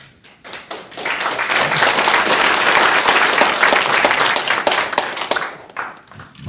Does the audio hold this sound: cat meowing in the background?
no